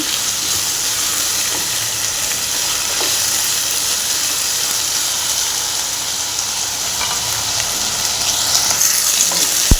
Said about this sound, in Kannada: ಈ ಥರ ನೀಟಾಗಿ ಫ್ರೈ ಮಾಡಬೇಕು ನಾವು. ಅವಾಗೆ ನಮಗೆ ಆಲೂ ಫ್ರೈ ರುಚಿ ಕೊಡೋದು.